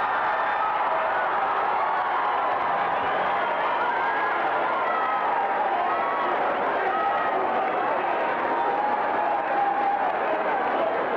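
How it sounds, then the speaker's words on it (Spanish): A large audience at the Señorita México 1991 beauty pageant applauds and cheers for a winner, with a continuous, loud roar of clapping and crowd noise. "El aplauso de todos nosotros"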